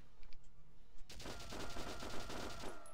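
Rapid machine-gun fire from the Valkyria Chronicles video game breaks out after a quiet second and then rattles on in a dense, steady stream of shots.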